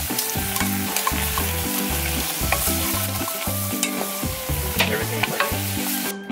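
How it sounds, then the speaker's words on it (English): Mushrooms, garlic and onions sauté in a pan inside an RV kitchen, a continuous close sizzle broken by repeated stirring scrapes, with steady background music underneath. "mushrooms and garlic and onions are sauteed"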